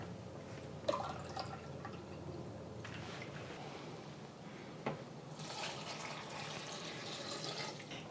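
Water is poured into a quarter-cup measuring cup in a home kitchen during rib marinade prep, a faint splashing trickle with a couple of soft drips and clinks.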